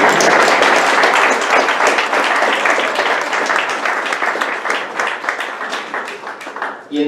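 Audience applause at a members' day awards ceremony, dense sustained clapping from a large crowd that stays loud for about seven seconds before thinning slightly toward the end.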